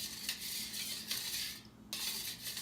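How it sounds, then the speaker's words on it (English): A utensil stirs a honey, garlic and apple cider vinegar mixture in a container, giving repeated soft scraping and clinking strokes with a brief pause, close and quiet, no voices. "I have a honey, garlic, apple cider vinegar solution. So I'm going to stir this a little bit more."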